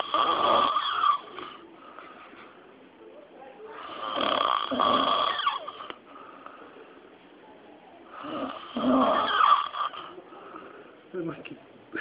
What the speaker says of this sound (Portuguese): Eu já vi um monte de gente roncar, mas nada igual esse bicho.